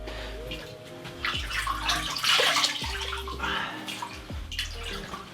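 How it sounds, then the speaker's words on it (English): Cold chilled water splashed onto a face over a sink before a straight-razor shave, giving a run of close, irregular wet splashes and sloshes with drips in between, heard alone without talk. "I'm going to splash my face with some cold water, chilled water"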